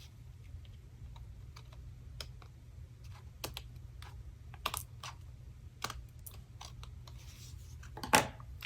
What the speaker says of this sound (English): So literally just hold this up and trim those edges off.